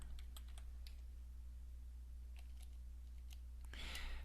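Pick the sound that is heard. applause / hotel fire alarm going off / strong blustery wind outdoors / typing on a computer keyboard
typing on a computer keyboard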